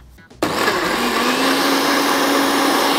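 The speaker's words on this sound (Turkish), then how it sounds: "Şimdi bunu blenderdan geçireceğiz." Blender switching on abruptly after a short quiet moment and whirring steadily at high speed while blending a salad dressing, loud and close, with no talking.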